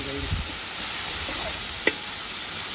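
Chopped tomatoes fry for chicken biryani in a pan, a steady close sizzle and hiss with a few soft stirring scrapes and a brief clink, no talk over it.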